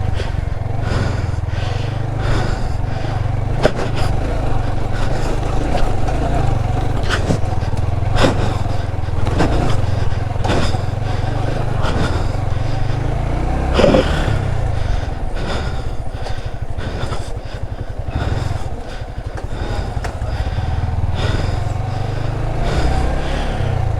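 A motorcycle rides over a bad, rough road in the Bandarban hills, its engine droning steadily close by for the whole stretch, broken by repeated knocks and jolts from the bumpy surface.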